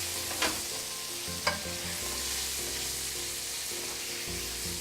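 Salmon fillets frying in a pan, seasoned with salt, granulated garlic and fresh cracked black pepper, give a steady close sizzle, with a couple of sharp clinks from a utensil early on and no talking.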